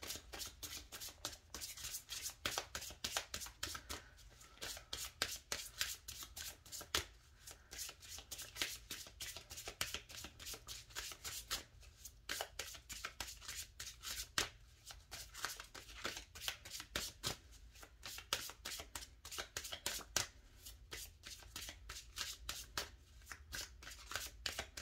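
A deck of Lenormand fortune-telling cards is shuffled by hand at a close distance, making a steady, continuous run of quick riffling and rubbing card noises for the whole stretch, with no talking.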